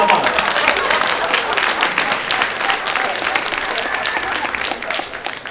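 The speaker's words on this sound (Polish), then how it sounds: "Brawa do pana." Sustained applause from an audience at an improv comedy show, a dense, steady wash of many hands clapping throughout, loud and close with no voices standing out.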